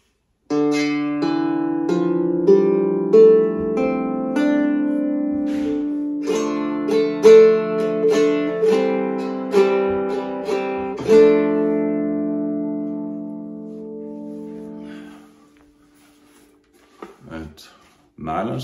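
Viking-style lyre with steel strings being strummed and plucked: bright, ringing chords with a metallic shimmer, played close in a steady rhythm for about fifteen seconds, then fading out before a brief burst of handling noise.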